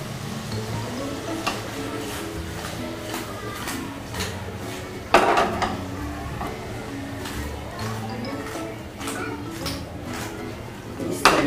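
Chicken 65 pieces being stirred in a hot pan, with steady soft scraping, light sizzling and occasional sharp spoon clicks against the metal, continuing under a person talking.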